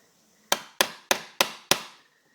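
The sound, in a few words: hammering a small chisel into hardwood for a door latch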